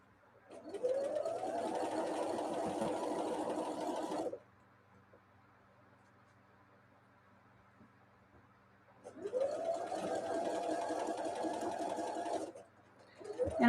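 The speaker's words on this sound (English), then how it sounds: "And I'm back stitching at the end of these columns." A sewing machine back stitching fabric runs in two steady bursts of about four seconds each, separated by a quiet pause, with an even mechanical whir that stays fairly close.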